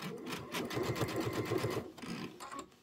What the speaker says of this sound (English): let me go ahead and lock that stitch.